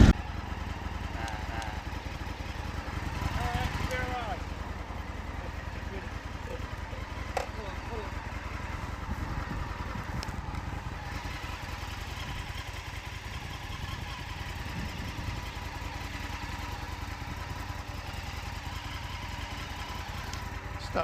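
An Indian FTR1200S motorcycle engine runs steadily on a test ride, a rough mid-pitched drone under wind noise, with a brief swell early on and a rider talking over it.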